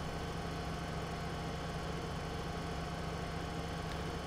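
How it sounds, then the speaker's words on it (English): A tractor engine runs at speed in Farming Simulator 2013, producing a steady, continuous low drone with an even hum and no break, moderately quiet and alone. "we're going way faster now with this tractor than we were with our Steiger"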